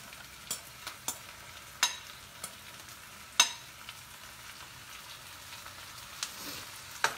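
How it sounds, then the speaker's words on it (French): Potatoes, onions and garlic sauté in a pan under a faint sizzle, punctuated by a handful of sharp utensil taps and scrapes at irregular intervals, with no speech. "vous faites sauter le tout ensemble. Donc là, on va mélanger l'ensemble"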